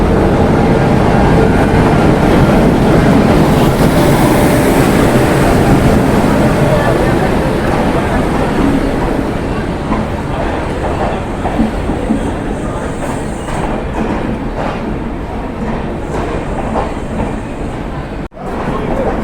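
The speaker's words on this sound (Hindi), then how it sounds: "ट्रेन अराइव करती हुई हमारी पश्चिम एक्सप्रेस 12926" Paschim Express 12926 rolls into a platform at Chandigarh: a loud, close rumble of wheels and carriages with clattering over the joints that eases a little as it slows, with voices murmuring faintly beneath.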